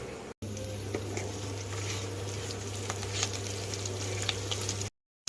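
Tamarind and pirandai stems sautéing in a pan for thuvaiyal, a soft steady sizzle and crackle with faint stirring patter, quiet and continuous over a low hum, cut off briefly at the start and end.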